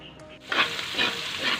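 Garlic, onion and ground meat sizzle and scrape in a pan for palabok, three loud bursts of frying and stirring following a quiet start.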